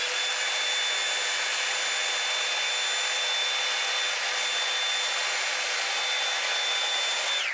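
A Revlon Air Straight hair dryer-straightener blows on thick curly hair with a steady, loud, close whoosh that holds without a break, carrying a faint high whine.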